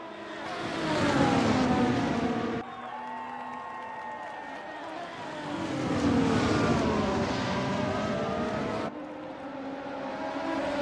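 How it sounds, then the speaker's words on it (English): Race cars at the Hockenheimring roar past in two loud waves, engines rising and falling as they speed by, with a commentator talking over them and faint crowd noise behind. "Raider tries to snap right back up the inside line on the Haas car."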